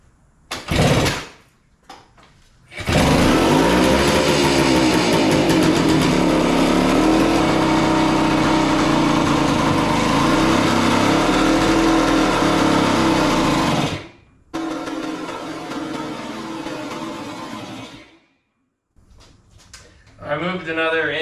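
A 1976 Suzuki TS185 two-stroke dirtbike engine, long abandoned, revs loud and buzzy for about ten seconds, then cuts out and returns at a lower, rougher idle that drops away and restarts briefly.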